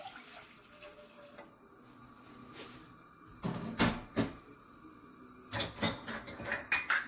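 Water is poured into a kitchen vessel for a lemon ginger chicken sauce. Faint running water gives way to louder splashing pours with light clinks of cookware, close by and without talk.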